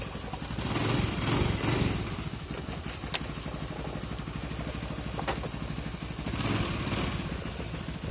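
A Honda Vario Techno scooter engine idles steadily at close range, with a continuous mechanical rattle and faint rises in revs.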